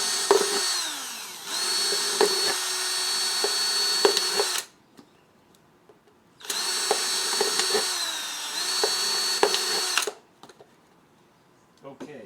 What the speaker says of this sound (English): Let me finish drilling this hole.